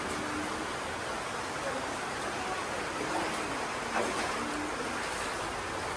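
Floodwater from a typhoon rushes out through an opened hole in a flooded house, a steady broadband watery roar with faint voices underneath.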